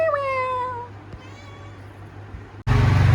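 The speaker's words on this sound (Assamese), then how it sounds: "এইটো মিন্ময়ৰ মেকুৰী, ই ফটা চটা দি একদম আপি চুলি কৰি লৈছে।" A cat meows several times in quick succession, close and fairly loud, the calls falling in pitch, with a steady low hum beneath and a sudden burst of loud noise near the end.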